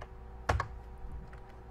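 A couple of quick keypresses on a computer keyboard while entering a bar count in a beat-making program, two close clicks over a faint steady background hum.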